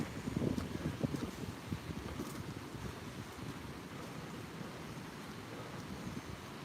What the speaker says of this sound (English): That waterfall down there is that loud, I can still hear it all the way up here.